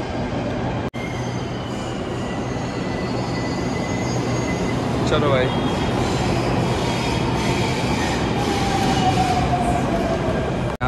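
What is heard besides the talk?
metro train running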